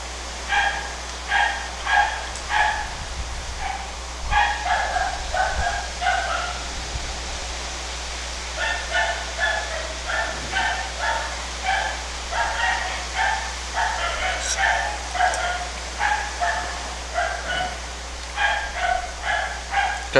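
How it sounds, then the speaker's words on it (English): Neighbor's dog barking repeatedly in rhythmic bursts of two to four barks, heard at a moderate distance over the steady hiss of heavy rain. "the neighbor's dog won't shut up."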